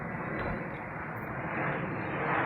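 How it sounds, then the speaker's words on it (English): A jet airplane passes overhead in an urban area near a streetcar line, giving a steady broadband roar that swells slightly toward the end. It sounds moderately distant, with no talking. "didn't have to listen to jet airplanes flying overhead"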